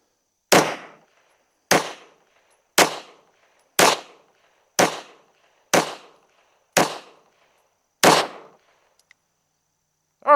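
A Walther P38 pistol fires reloaded ammunition, eight sharp, loud shots at a steady pace about one second apart, each with a short ringing decay.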